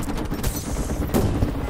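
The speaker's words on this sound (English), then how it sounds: "Keep shooting them." Rapid automatic gunfire rattles continuously in Call of Duty: Black Ops Cold War, dense overlapping shots close up and loud throughout the short burst.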